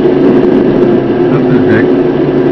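Simulated heavy truck engine rolling fast downhill in a trucking video game without the engine brake, a steady loud low drone with a continuous mechanical hum throughout.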